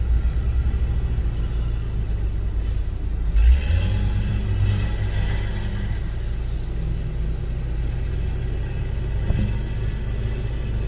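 Caterpillar 140H motor grader diesel engine running on a road, a constant deep rumble heard nearby with a brief louder surge early on and no talking.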